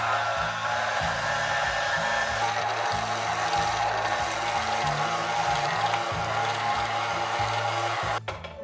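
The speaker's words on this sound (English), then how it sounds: "Switch to the kneading attachment and let the mixer do the work." A stand mixer with its kneading attachment works soft potato bread dough, giving a steady motor whir over a rhythmic, uneven low thumping that runs continuously without any talk.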